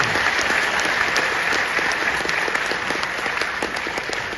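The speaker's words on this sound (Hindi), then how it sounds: "एक बार पूरे मन की तालियां दे दीजिए" Loud, sustained applause from a large audience at a stand-up comedy show, dense clapping filling the space evenly for several seconds without letting up.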